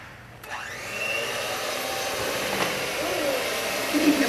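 An electric mixer whirs up to a steady, close hum as it blends instant pudding mix with cold water, holding that motor drone to the end under faint voices.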